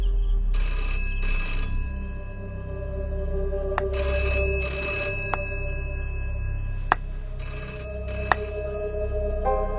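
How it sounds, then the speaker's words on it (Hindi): An old-style home telephone bell rings in several bursts of bright, shrill trilling separated by pauses, with a few sharp clicks in between, fairly close against a low background hum. "फिर से घंटी बजी।"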